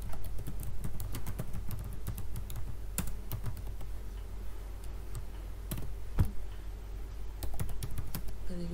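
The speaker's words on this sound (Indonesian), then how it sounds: "kita bisa tekan tombol Alt pada keyboard dan huruf N" Steady typing on a computer keyboard with crisp, close key clicks in quick irregular bursts, including repeated Alt and letter shortcut presses, a sharper tap standing out midway, with no talking.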